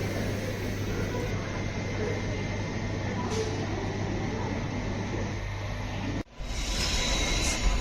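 Mettur Dam Express pulling out of Salem station, a steady broad rumble of the moving train with a low hum, cut by a sudden brief drop and jolt near the end before the rumble resumes.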